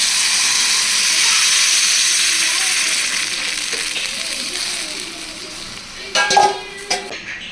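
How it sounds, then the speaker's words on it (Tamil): Tamarind water pours into a pan of frying brinjal and potatoes, setting off a loud, steady hiss of sizzling steam that slowly settles, followed by a few clinks of a utensil stirring against the pan. "இந்த புளி கரைசலை இதோட ஆட் பண்ணிப்போம்"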